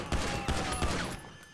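Rapid gunfire bursts in GTA V, three quick heavy volleys of shots in close succession, loud and near, with the last fading out.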